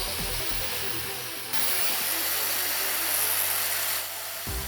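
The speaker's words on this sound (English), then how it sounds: "We're also going to connect an angle grinder that operates at 220 volts and requires 800 watts of" A 220-volt, 800-watt angle grinder runs from a generator, giving a loud continuous high whir that steps up in intensity partway through and then drops back, with a steady low hum underneath and no talk.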